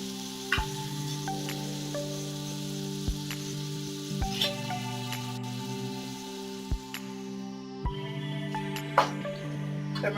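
Tomatoes frying in a pan for puffed-rice upma: a steady soft sizzle with a low hum underneath, punctuated by occasional sharp clicks and taps from stirring, close and alone.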